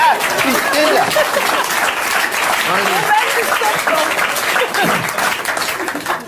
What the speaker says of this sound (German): Lass sie klatschen, brauchen wir noch zum Schneiden.